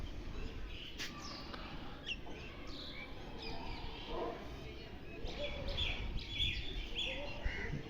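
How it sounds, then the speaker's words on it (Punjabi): Birds chirp and tweet in a quiet Punjabi village, small scattered calls at moderate distance over a soft outdoor hum, with faint murmuring voices in the background. "ਪਿੰਡ 'ਚ ਇੰਨੀ ਸ਼ਾਂਤੀ ਹੁੰਦੀ ਹੈ ਜੀ ਦੇਖ ਲਓ ਪੰਛੀਆਂ ਦੀਆਂ ਆਵਾਜ਼ਾਂ ਵੀ ਕਿੰਨੀਆਂ ਸੋਹਣੀਆਂ ਲੱਗਦੀਆਂ"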